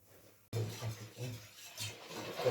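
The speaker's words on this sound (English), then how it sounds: "you don't stop stirring until it gets to plop a few times" A utensil scraping and stirring flour in a pot over heat, steady rubbing strokes close by after a brief quiet start.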